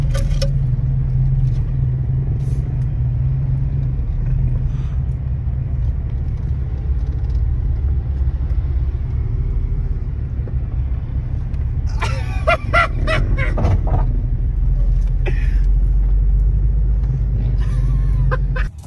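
A stock Jeep Wrangler on 33-inch tires rumbles under throttle, a steady low engine drone close by, with scattered clicks and knocks from the vehicle midway and near the end.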